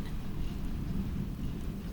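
Rain falls steadily around a slow riverboat, a soft continuous low hiss and patter with no voices.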